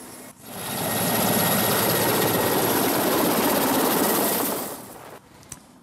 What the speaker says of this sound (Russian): За условную линию фронта десант отправили на транспортно-штурмовых вертолетах Ми-8 АМТШ.